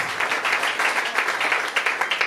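A church congregation claps together for Jesus Christ, a dense, steady wash of many hands with a loosely rhythmic pulse running throughout, moderately loud and with no talk over it.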